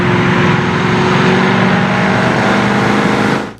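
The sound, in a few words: 1971 Dodge Challenger R/T engine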